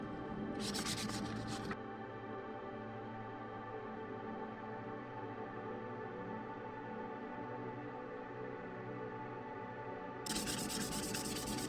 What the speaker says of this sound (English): you're literally just going to take a piece of sandpaper and sand that smooth surface